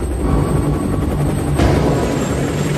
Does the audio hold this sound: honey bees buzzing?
no